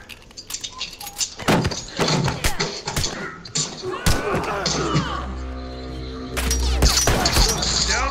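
Semi-automatic gunfire in The Last of Us, a few sharp sporadic shots and thuds mixed with game action, with a voice talking over part of it.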